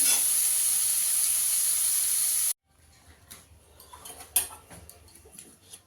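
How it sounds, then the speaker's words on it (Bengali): Dried fish frying in a pan gives off a loud, steady sizzling hiss for a couple of seconds, then cuts to much quieter pan noise with soft ticks and light crackles. "একটু ভেজে নেব ভালো করে"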